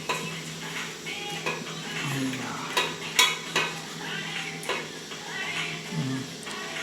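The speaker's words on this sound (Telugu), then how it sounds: "పన్నీర్ చాలా మెత్తగా ఉంటుంది కాబట్టి దీన్ని మెల్లగా గిలకాలి" Gentle stirring of soft paneer curry in a pan, with soft scraping and light clinks of a spoon against the pan over a faint sizzle, occasional sharper taps, close and steady with no talking.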